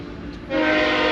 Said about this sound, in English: Gotta love these trains.